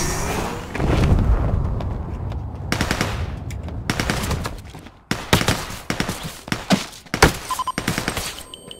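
Gunfire in the video game Ring of Elysium, with loud bursts of rapid automatic shots and single cracks in quick, irregular volleys, some with a rolling echo.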